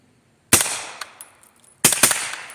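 A 9mm AR rifle fires two sharp, loud bursts of rapid shots while bump firing, the first near half a second in and the second near two seconds, with a few fainter clanks and echoes between them.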